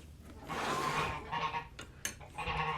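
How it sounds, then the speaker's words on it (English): Geese honking near a woodworking shop, a loud, drawn-out honk followed by shorter overlapping calls, close by and alone without talk. "And the geese want to say hello."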